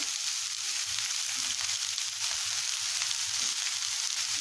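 Chopped onions and green chillies frying in hot oil in a pan, a soft even sizzle and crackle holding steady throughout, no voices.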